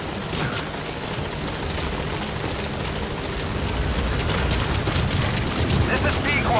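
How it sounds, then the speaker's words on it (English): A support helicopter arrives in Metal Gear Solid V: The Phantom Pain, its loud, dense rotor rumble filling the scene and growing slightly stronger throughout amid game noise. "Support helicopter has arrived."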